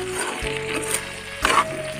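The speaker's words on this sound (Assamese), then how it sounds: "কাটি লোৱা ৰঙালাও আৰু আলু দি দিছোঁ। তাৰপাছত এইখিনি ভালদৰে লৰাই দিম।" Cut pumpkin and potato stirred in a pan without oil: a soft, steady sizzle with a low hum beneath it and a short scrape midway, close and moderate in level.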